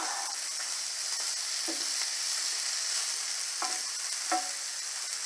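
Steady, soft sizzling of meatballs frying in a pan, with a few brief clicks and scrapes, close by and with no talking.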